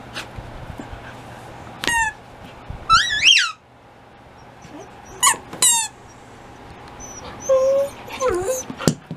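A husky whines and yowls in short, rising, squeaky bursts separated by pauses, sounding like an attempt to sing, close by in a quiet room.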